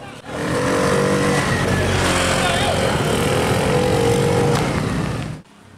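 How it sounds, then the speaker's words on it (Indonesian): Motorcycles from an illegal street race in Tuban rev hard and roar loudly as riders try to flee police, a dense, sustained engine snarl that cuts off abruptly at the end, with a voice speaking over it. "Mereka berusaha kabur dengan memacu gas motornya untuk menghindari petugas."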